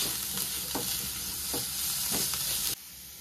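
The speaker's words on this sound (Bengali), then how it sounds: "ভালো করে নেড়ে চেড়ে নেব, আদার সাথে বিট গাজরটা মিশিয়ে নেব" Grated beetroot and carrot with ginger sizzle in a pan as a spoon stirs them in a few rhythmic scrapes, then the frying noise drops abruptly near the end.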